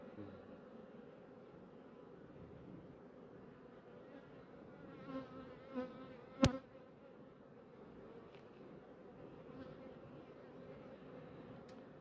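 Dense, steady buzzing of many honeybees up close in an open hive, with a few sharp clicks and knocks partway through.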